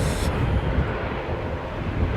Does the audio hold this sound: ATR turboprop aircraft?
yes